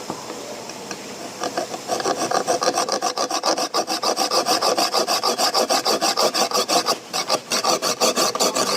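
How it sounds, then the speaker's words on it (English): A knife blade scrapes rhythmically against a steel hammer, with steady rasping back-and-forth strokes, close and loud, after a quieter start. "How many of you think I can cut into this hammer with the knife?"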